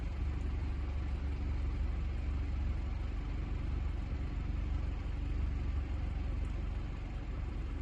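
A car engine idles quietly, a soft, steady low rumble with no variation, faint and distant-sounding, and no voices over it.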